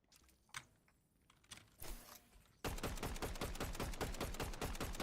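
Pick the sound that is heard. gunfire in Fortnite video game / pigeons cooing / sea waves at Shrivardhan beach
gunfire in Fortnite video game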